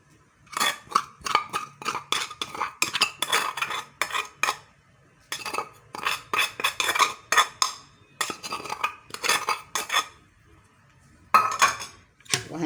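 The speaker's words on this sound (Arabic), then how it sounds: "هنفضل نقلب لغايه ما يبقى اللبن خالص ما فيهوش اي حاجه من الحاجات دي" A metal spoon stirs milk pudding (muhallabia) mixture in a pot, producing rapid, rhythmic clinks and scrapes in bursts separated by brief pauses, close and clear with no talking.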